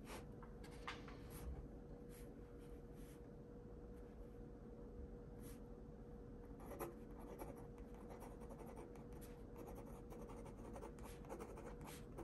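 A skinny black pen writes in a journal, a faint, close scratching of strokes and taps that continues over a quiet background hum.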